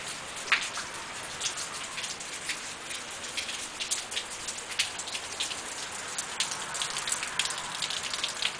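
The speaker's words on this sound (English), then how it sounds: "From the summer rain." Steady summer rain patters down on surfaces nearby in Kentucky, with scattered sharper drops standing out against the continuous hiss.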